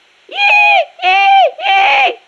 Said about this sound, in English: Rabbits sound like that? I assure you they do. Listen again.